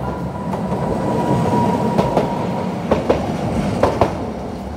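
A Tokyo Setagaya Line tram passes close by, rumbling steadily with rhythmic clacks of wheels over rail joints and a faint squealing tone, with no talk over it.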